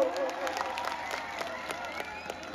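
Loud, continuous applause from an audience at a Kartik Puni Jatra stage programme in Bhandarimal, with many hands clapping and crowd noise running steadily throughout.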